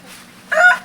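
A chicken near a coop gives a single short, bright cluck that rises out of quiet background hum and then fades.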